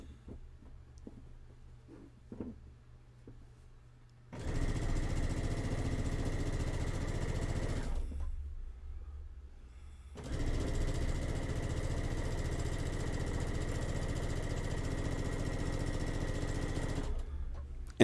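A sewing machine stitches quilt sashing in two long steady runs, a close, even mechanical whir that stops briefly between them, with faint handling clicks before the first run.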